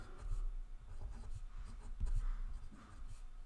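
Math being written on a board makes close, continuous scratchy strokes and taps in an irregular rhythm, with no talking.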